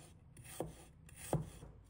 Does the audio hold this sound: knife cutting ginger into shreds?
yes